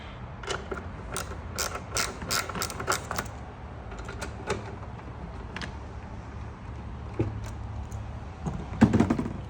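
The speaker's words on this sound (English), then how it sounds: "now that we got our ratchet with an extension, we can start taking these bolts off" A ratchet fitted with an extension loosens small bolts on a Miata overflow reservoir. Quick runs of dry mechanical clicks come in bursts, close by, with quieter pauses and a few metallic clanks near the end.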